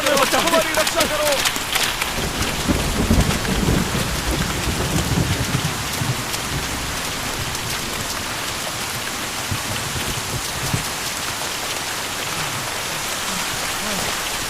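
Hailstorm with heavy rain pelting surfaces and thunder, a dense loud downpour that is strongest at the start and then settles into a steady roar, with voices speaking over it early on.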